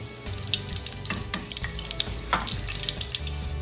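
Donuts frying in hot oil, a steady dense sizzle with soft bubbling and a few brief clinks of a utensil, close and continuous throughout, no voices.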